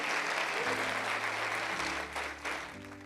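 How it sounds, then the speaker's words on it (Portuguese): A church congregation applauds during a worship service, with broad sustained clapping over low sustained instrumental tones that shift in pitch beneath it. "Pode aplaudir o Senhor, porque é para Ele toda a honra e toda a glória."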